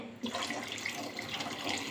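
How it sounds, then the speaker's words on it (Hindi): Two glasses of water are poured into a pot of hot and sour soup made with bone-in chicken, giving a continuous splashing gush that stays steady and close, with no talking. "2 गिलास और पानी डाल रही हूँ"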